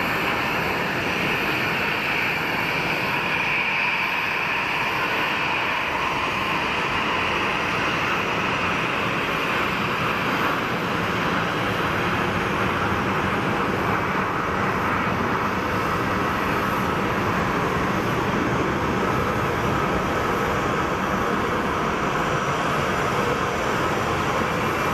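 A KLM passenger jet at Geneva Airport produces a continuous broadband engine roar and rumble, steady and fairly loud throughout, with no voices over it.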